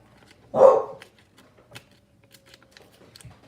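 A dog gives a single short, sharp bark at moderate distance, followed by near quiet with a few faint clicks and small knocks.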